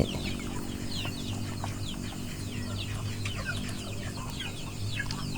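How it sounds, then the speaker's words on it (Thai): Jungle fowl cluck steadily near and far, with bright bird chirps scattered throughout over a constant low outdoor hum. "แล้วตัวนี้จะเป็นไก่ป่าเนาะ"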